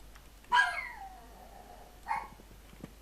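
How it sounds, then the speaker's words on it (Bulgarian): Dogs in the Minecraft video game give two separate yelping barks, a louder one followed by a shorter, softer one, over quiet game background. "Кучетата."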